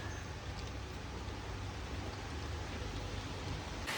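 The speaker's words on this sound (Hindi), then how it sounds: "बारिश बहुत ज़्यादा तेज़ हो चुकी है" Heavy rain pours steadily at a Goa resort, a dense, even hiss from start to finish with no gaps.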